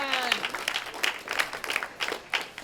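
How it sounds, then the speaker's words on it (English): An audience claps for Brooklyn at a comedy show, with scattered, uneven handclaps and a short tonal sound at the start, fairly quiet overall. "Give Brooklyn a round of applause."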